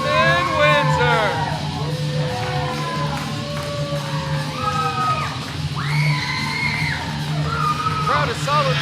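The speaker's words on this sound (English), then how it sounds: "Crowd is solidly behind Damon Windsor." Wrestling crowd at a live event cheering and yelling for Damon Windsor, with loud whoops, shouts and bellows rising and falling continuously over a steady hum.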